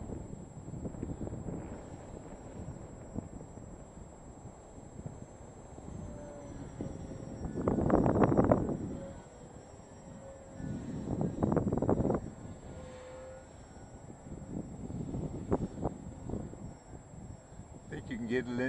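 Strong wind buffets the microphone while a foam board model airplane is flown outdoors, a rough rumbling roar that swells in gusts under occasional talk.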